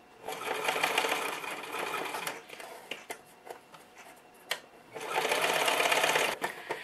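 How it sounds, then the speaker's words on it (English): A sewing machine stitching in an invisible zipper runs in two steady whirring bursts, with a stretch of quieter clicks and handling noises between them, fairly close. "Now you'll come and sew it just like you did the other side"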